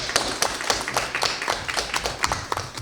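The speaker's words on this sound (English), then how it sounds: "Round of applause to her for that" A small group at a student government meeting claps for a colleague, a sparse, loose round of individual handclaps with distinct, uneven slaps rather than a dense roar, fairly close.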